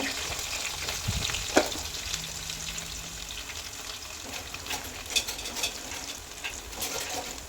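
Ginger and garlic frying with curry leaves in coconut oil in an uruli pan, a steady soft sizzle with occasional stirring scrapes and clinks, fairly quiet and close.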